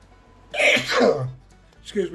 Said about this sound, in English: me for sneezing on camera